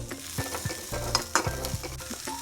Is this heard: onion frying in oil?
yes